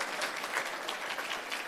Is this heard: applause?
yes